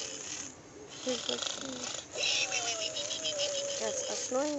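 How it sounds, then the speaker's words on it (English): A pig snores in steady, raspy rhythmic pulses through constant background noise, and people chatter nearby over the snorts. "Yes, a snoring pig."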